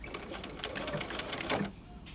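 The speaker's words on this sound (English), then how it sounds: "you will sew following the thread basting" A sewing machine stitching along a thread-basted line at a standard 2.5 stitch length, running as a steady rapid mechanical whir with close, even needle clatter before it stops.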